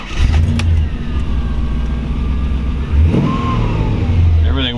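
A 1957 Ford Fairlane 500 hardtop resto-mod with an LS1 V8 runs loud and close, a steady throaty idle rising into a quick rev before settling back.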